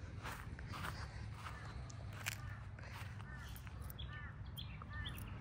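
Parrots chirp in short bright calls outdoors near loquat fruit, several quick tweets scattered over steady background noise, fairly faint and in the middle distance.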